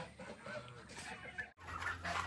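Chickens cluck faintly among busy background noise, with a brief dropout midway and no one speaking.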